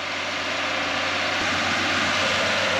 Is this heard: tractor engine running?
yes